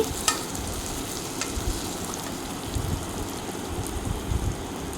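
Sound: carrots frying on medium flame for egg pulao

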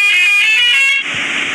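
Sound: bus horn honking in an Android bus simulator video game

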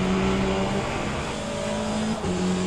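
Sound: race cars driving in Le Mans Ultimate video game

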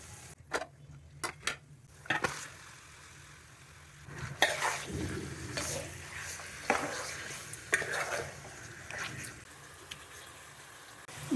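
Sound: marinated chicken frying in a pan

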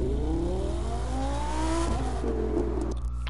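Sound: BMW M4 race car engine revving

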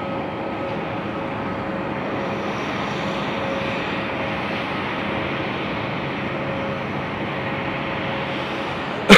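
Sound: airplane taking off at Haneda Airport

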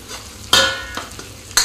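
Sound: frying onion and capsicum on high flame

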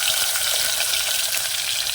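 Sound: onion frying in hot oil on a wood stove

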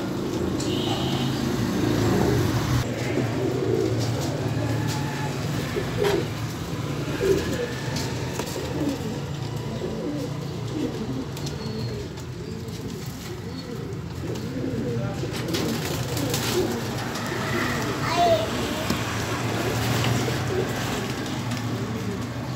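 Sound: male pigeon cooing

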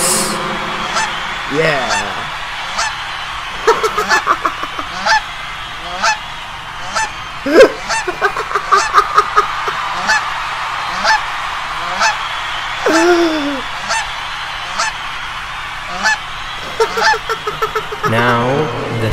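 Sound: geese honking

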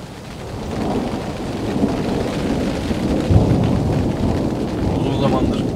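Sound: thunder during a snowstorm with rain

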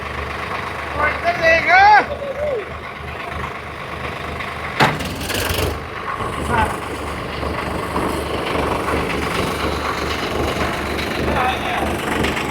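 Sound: Swaraj 855 tractors running in first high gear

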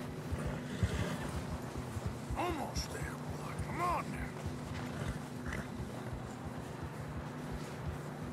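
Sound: horses walking in snow, from a video game

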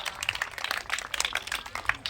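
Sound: audience applauding at Marathi game show Home Minister

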